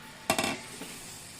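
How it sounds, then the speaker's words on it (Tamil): Eggs are stirred into masala in a pan for egg biryani, with a short cluster of metallic scrapes and clinks over a soft, steady sizzle, then a lone faint tap. "இதில் முட்டையை போட்டுக்கலாம். எல்லா பக்கமும் மசாலா வர மாதிரி கலரி விடுங்க."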